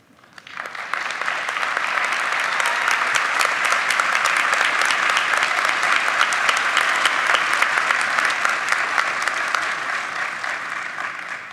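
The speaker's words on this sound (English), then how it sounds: "one more round of applause for all of them" Sustained applause from a ceremony audience honoring nursing school graduates at their pinning ceremony, dense steady clapping that swells in at the start and holds loud for about ten seconds before tapering slightly.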